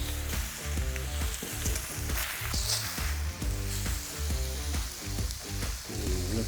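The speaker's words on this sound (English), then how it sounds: "You're gonna wanna crisp up the outside layers and warm it through." A sandwich fries in a pan to crisp its outer layers, giving a steady, loud sizzle throughout under rhythmic background music.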